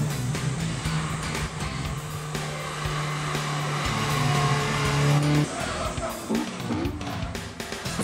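A car lapping a track under a scorching 43-degree sun, recorded for the Initial D movie sound, its engine droning and revving with tire squeal and skidding, a steady loud roar that surges and shifts as it passes.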